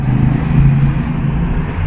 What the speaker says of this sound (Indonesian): Pada mobil-mobil berlalu lalang.